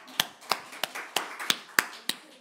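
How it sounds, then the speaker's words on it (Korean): A small church audience claps in sparse, uneven single claps, about eight distinct hits over a couple of seconds, close and moderately loud. "박수하겠습니다."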